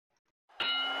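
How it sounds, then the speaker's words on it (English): A boxing ring bell opens round one of a heavyweight bout, striking once loud and near, then ringing on with a bright sustained metallic tone over crowd noise. "And there's the bell."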